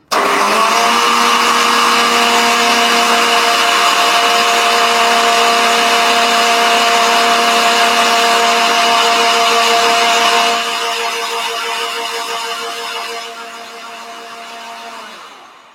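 A blender purees cauliflower, coconut and eggs with a loud, steady motor whine and churning roar, holding for about ten seconds before easing down in pitch and fading toward the end.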